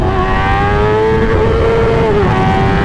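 A Kawasaki ZX-10R motorcycle accelerating hard in first gear, a loud, close engine whine that climbs steadily in pitch, with a brief dip near the end as it nears a shift, and no talking.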